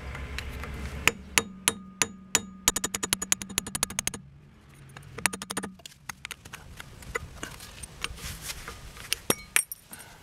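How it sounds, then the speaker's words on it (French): Metal taps and clinks from a hammer driving a flat screwdriver to pry the hub cap off a Renault Scenic 3 rear wheel, a run of sharp close strikes, some in quick bursts, with brief pauses between. "Je vais enlever le cache-moyeu à l'aide d'un tournevis plat et d'un marteau."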